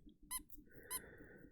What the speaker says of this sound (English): Sorry, my nose squeaks.